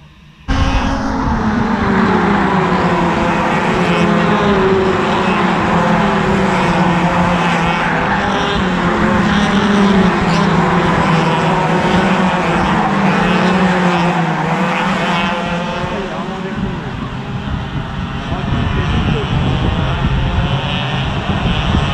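A pack of racing karts in an Elite-class kart race passes close by, their high, buzzing engines whining and shifting pitch in a dense, continuous drone that slowly fades slightly toward the end.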